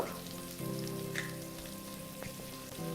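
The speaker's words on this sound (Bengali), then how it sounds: "এই সিদ্ধ করা আলুগুলোকে আমি এখন হলুদ আর লবণ দিয়ে ভালো করে ভেজে নেব" Boiled potatoes fry in oil with turmeric and salt, a steady close sizzle and crackle running throughout with a brief stirring clatter, no voices.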